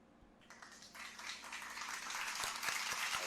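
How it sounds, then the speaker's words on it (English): Audience applause swells from faint scattered clapping into a fuller, steady round, fairly quiet and distant, with no talk over it. "Round of applause."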